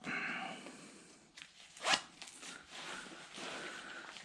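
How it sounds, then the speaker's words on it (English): A jacket sleeve zipper is pulled open with a short, bright rasp near the middle, among softer fabric rustling and handling noises close by. "Now, the zipper mechanism actually seems relatively secure."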